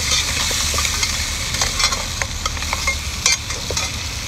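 Seafood with dark soy sauce and red chili oil stir-fried in a pan: a constant loud sizzle with repeated scraping and clinking of a spatula against the pan, up close, with no speech.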